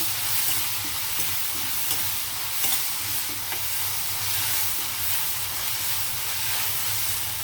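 Curry for a vegetarian meal maker dum biryani being stirred in a pan after salt and turmeric go in: constant hissing sizzle with light scraping of the spoon, close up, no speech.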